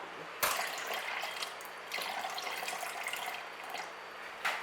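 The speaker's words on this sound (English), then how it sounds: "So I need to put 150 ml of cold water in now." Cold water pours steadily into a container with a soft splashing rush, marked by a few brief louder splashes, quiet and close.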